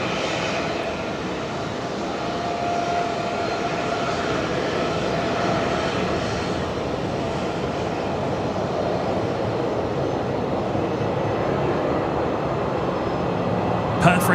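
Qantas jet on flight 631 to Melbourne taking off from runway 01 right at Brisbane Airport at night, a steady broad engine roar holding for the whole stretch, with a voice talking over it.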